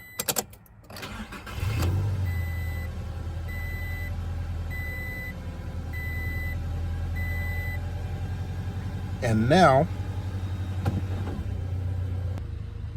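Toyota Tacoma pickup idling with a low steady engine rumble, with reverse-gear warning beeps repeating evenly over it and a brief louder surge near the end; someone speaks briefly.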